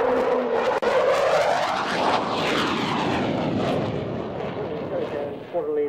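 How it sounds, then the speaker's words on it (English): A PR9 jet roars past at an air show, braking into the circuit at high speed, its loud sustained engine howl sweeping in pitch as it passes, with a commentator's voice faintly under the noise. "now the PR9 braking into the circuit, 508 knots"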